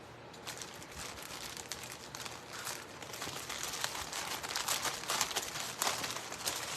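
Lobby card packaging is ripped open by hand, a faint, continuous crinkling and tearing of plastic wrap with scattered sharp crackles that grow somewhat louder toward the end.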